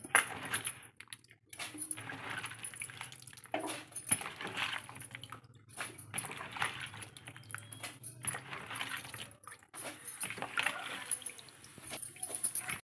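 Cauliflower pieces drop into a pot of boiling water with a run of light splashes and clinks of utensils against metal, close and fairly quiet, with no talking.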